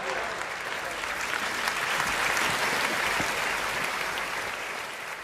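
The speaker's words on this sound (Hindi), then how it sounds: "एक बार जोरदार तालियों के साथ आप कविता का स्वागत।" Steady, full applause from a large crowd at a Delhi poetry gathering welcoming a poet onstage, continuous clapping that thins slightly toward the end.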